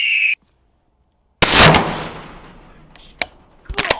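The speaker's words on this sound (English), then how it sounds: "Moving up to the 50 cal round, we got our friend Stinger here to fire it off." A .50 caliber sniper rifle fires at a 45-pound steel plate: one very loud, sharp blast with a long decaying rumble, a brief tone before it and a few sharp clanks and knocks afterward.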